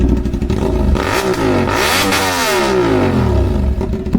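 A CFMoto 450SR motorcycle fitted with an Austin Racing short exhaust revs hard close by, loud blips that rise and fall in pitch over a rumbling idle.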